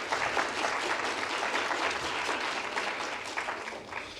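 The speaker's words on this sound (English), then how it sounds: "A round of applause for Miranda and Krishma" A crowd at a workshop event applauds steadily, a dense wash of clapping that holds for several seconds and eases slightly toward the end.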